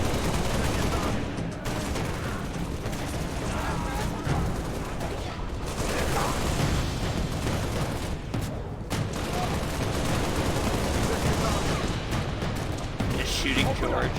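Dense, continuous gunfire from the video game Halo: Reach, with rapid overlapping shots and bursts running loudly throughout, mixed with game effects and a voice talking over the firefight.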